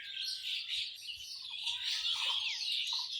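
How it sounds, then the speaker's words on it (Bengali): Many small birds chirp and tweet continuously in a village in the morning, a dense, bright chorus of overlapping calls at steady moderate loudness with no talking. "আর পাখির ডাকটাও বেশি শোনা যায়"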